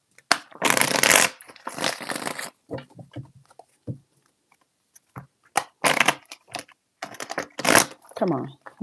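Oracle card decks being shuffled by hand in repeated crisp riffling bursts, close and fairly loud, with pauses between, plus a few scattered taps.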